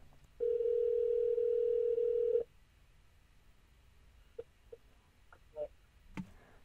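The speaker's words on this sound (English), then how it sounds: "if we make a phone call, the phone call will transmit over the stereo" A phone call is carried through a car stereo by a Bluetooth FM transmitter: a steady electronic call tone holds for about two seconds, then stops, followed by a few faint scattered clicks in near silence.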